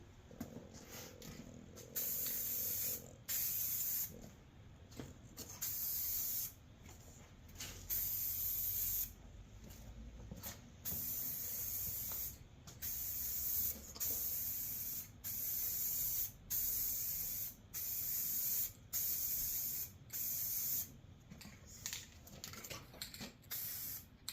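Aerosol spray can applying Eastwood rad black paint to an aluminum radiator: close, loud hissing bursts repeated in short and longer passes with brief gaps between them.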